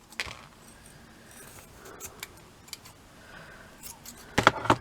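Scissors snip through the end of a ribbon while a ribbon flower is assembled, with a few soft clicks before a sharp cluster of close cutting snaps at the end.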